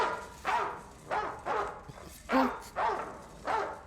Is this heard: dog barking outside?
yes